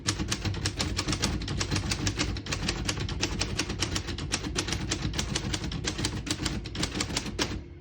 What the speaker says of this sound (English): I'll type a sentence in red on the next line.